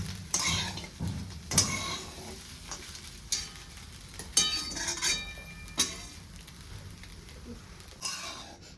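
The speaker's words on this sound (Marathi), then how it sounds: "आणखी एक दोन मिनटासाठी मी छान असं पोहे मिक्स करते" Coconut poha stirred in a pan over a gas flame, with a soft ongoing sizzle and repeated scraping and clinking of a spoon against the pan at an irregular rhythm.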